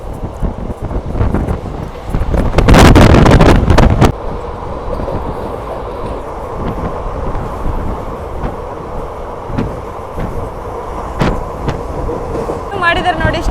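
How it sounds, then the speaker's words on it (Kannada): A diesel-engine passenger train runs alongside a road on the Bangalore–Hosapete line, a continuous rumbling roar with a louder swell early on, then steady rolling noise with wind buffeting. "ನೋಡಿ ರೋಡ್ ಪಕ್ಕನೇ ಟ್ರೈನ್ ಹೋಗ್ತಾ ಇದೆ"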